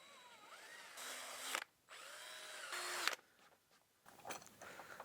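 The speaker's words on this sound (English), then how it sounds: "Then we're gonna drill a hole so that this bolt can fit through." A power drill whirs in short bursts, rising and falling in pitch as it bites through wood to make a bolt hole, with brief pauses between runs; fairly close and moderately loud.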